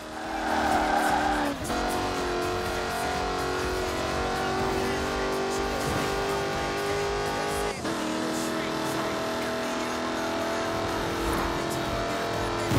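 A Jaguar Project 7 drives in the racing game Forza Horizon 4, its engine a steady, strained drone that climbs and then sharply drops at two gear shifts. A voice narrates over the engine.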